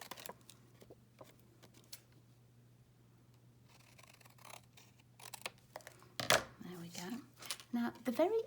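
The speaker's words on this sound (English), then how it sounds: "I'm just using a long bladed scissors and I'm just cutting around the edges" Crisp snipping of long-bladed scissors cutting around the edges of paper, a string of short cuts at close range, with a voice speaking over the last couple of seconds.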